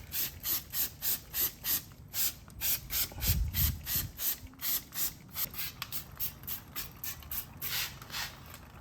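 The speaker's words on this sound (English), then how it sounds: "just spray it down with water, this whole area" A hand trigger sprayer squirts water onto the metal of a mini truck in a quick, regular series of short hissing bursts, close and fairly quiet, with no talking.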